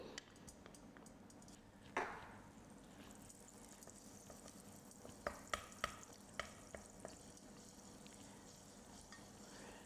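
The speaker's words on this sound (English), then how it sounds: "I'm going to melt my margarine" Margarine melting in a pan as the base for a cheese soufflé, a quiet, faint sizzle with scattered spoon taps and scraping clicks, heard without speech.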